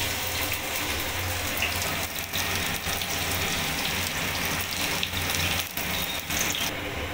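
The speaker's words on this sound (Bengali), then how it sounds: "এবার আমি রসুন কুচিটা দিয়ে দেবো তেলের মধ্যে" Chopped garlic hits hot refined white oil in a pan, giving a loud, steady crackling hiss that runs without a break from start to finish, with no talk.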